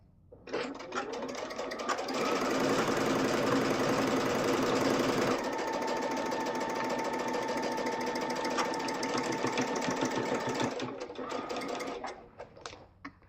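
Sewing machine running a scant quarter-inch seam on a quilt, a close, fast mechanical whir that starts up, holds steady for about ten seconds, then slows and stops with a few slower stitches at the end.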